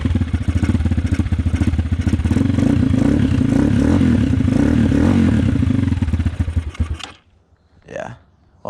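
A Honda 300EX quad engine idles and revs roughly, bogging from a dirty carburetor, loud and close with a rattly, uneven pulse for about seven seconds before cutting out, followed by a few faint brief noises.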